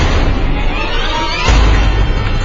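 A portable gas stove explodes during a safety test, a loud low boom swelling midway through a dense, roaring rumble with no voices.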